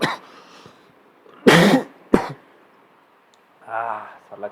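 Two sharp coughs from a person, a loud burst followed quickly by a shorter one, with soft background murmuring before and a brief voiced sound afterward.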